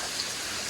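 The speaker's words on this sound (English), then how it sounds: "It's raining pretty hard at my window" Heavy rain patters steadily against a window during a thunderstorm, a dense, even hiss of drops with no talking.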